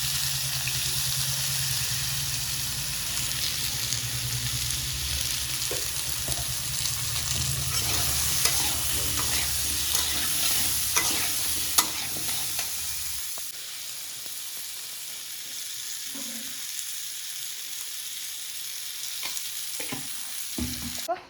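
Pointed gourd, potato and pumpkin pieces fry in a pan with a loud, continuous sizzle and crackle that eases to a quieter hiss partway through, with occasional clinks and stirring.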